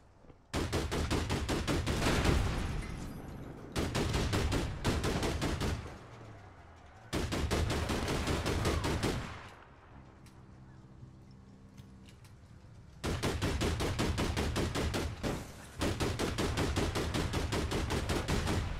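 Sustained bursts of automatic gunfire in the online shooter game ALIG, several long loud volleys separated by short pauses, with a quieter stretch of softer game noise in the middle; no talking.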